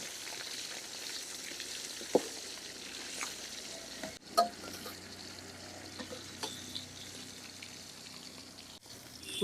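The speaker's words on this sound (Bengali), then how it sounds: "বাকি মাছগুলো ভাজা নিব" Pieces of a large pond-raised glass carp fry in hot oil for a village-style meal, giving a steady, fairly quiet sizzle with a few sharper pops and spatters.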